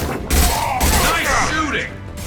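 Bursts of gunfire thud and crackle during a firefight in the video game Mass Effect Legendary Edition, mixed under a voice speaking.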